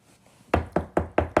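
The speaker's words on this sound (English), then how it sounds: "I'm going to knock on the door so that they'll come get the dog" Five firm knocks on a door in quick, steady succession, each a sharp, close thud that rings briefly, with no talking.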